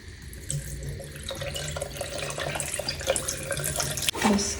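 Water gushes and splashes out of an emptied hot water bag into a sink, a steady running stream close by with a louder splash near the end, no voices.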